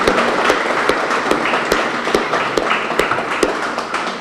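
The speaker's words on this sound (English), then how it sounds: "I just ask you to join me in a round of applause for Lynn's hard work." Award ceremony audience applauding, a steady patter of many hands clapping at close range throughout, with individual claps standing out in a loose rhythm.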